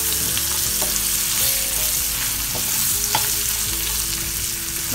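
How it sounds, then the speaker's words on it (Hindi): Black pepper and spices frying in a pan for Turkish soupy kebab, a loud continuous sizzle with a low steady hum beneath and occasional stirring clinks, close and uninterrupted by voices. "इसको फिर से घुमा देंगे ताकि ये भी मिर्ची भी थोड़ा सा फ्राई हो जाए"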